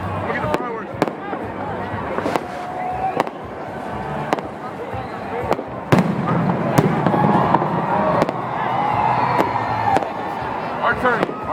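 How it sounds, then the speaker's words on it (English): New Year's fireworks burst over Reno, Nevada, a string of sharp booms and crackles at varying distances over a steady crowd murmur, with people talking nearby. "Look at the fireworks."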